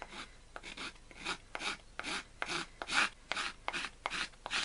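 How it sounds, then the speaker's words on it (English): Sharp chisel scraping across the wood of a Sorrento box during restoration, a steady run of about a dozen short, rhythmic rasping strokes, close and moderately loud with no talk. "Just scrape it. Don't dig into it, just feel it scraping across"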